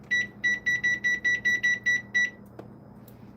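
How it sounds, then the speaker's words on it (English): Kitchen timer set while milk simmers on the stove, giving nine quick, evenly spaced high electronic beeps, clear and close, with a soft clunk just after. "So we'll set a timer."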